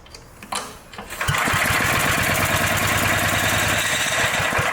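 An old engine that has sat for thirty years cranks fast on a jumper pack, a steady rapid mechanical chugging that starts after a second of quieter noise and runs loud and unbroken to the end.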